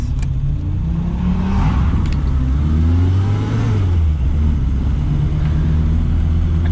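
A three-wheeler car drives and accelerates, its mid-pitched engine rumbling up through rising revs, close and steady with no talking.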